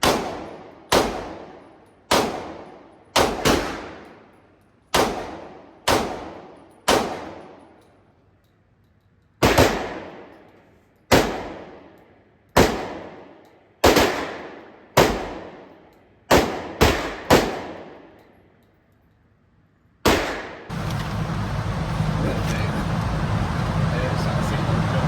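An AR-15 rifle chambered in 5.56 fires at a gun range from 10 yards. About seventeen loud, close, sharp cracks ring out singly and in quick pairs, each followed by a short echo, and outdoor noise follows at the end.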